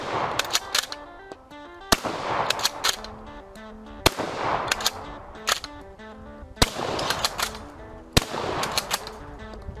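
Gras bolt-action rifle fitted with a .410 shotgun adapter, fired outdoors in four loud sharp reports spaced about two seconds apart, with clicks and clatter of the bolt being worked between shots.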